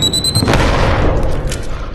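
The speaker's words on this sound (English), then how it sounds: "Oh, there's another giant bomb!" A giant bomb explodes in the video game Animal Company, a single loud, close boom that hits suddenly and rolls off into a long rumbling decay.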